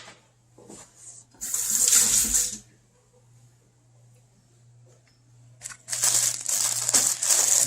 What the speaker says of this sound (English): All right, I'm going to rinse these off.